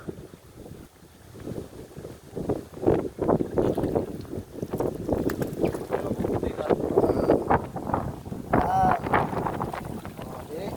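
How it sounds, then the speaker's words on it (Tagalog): Strong wind buffets the microphone in rough gusts over the rumble of a moving boat, with people talking loosely underneath. "Lakas ka lang hangin, oh."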